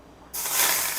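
Hot oil poured over a raw mango salad, breaking into a sudden loud hissing sizzle after a short quiet moment and holding steady to the end.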